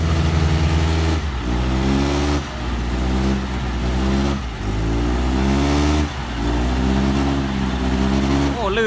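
A car stuck in wet mud revs its engine hard in repeated surges, loud and close, each rise climbing in pitch before easing off, while excited voices shout over it.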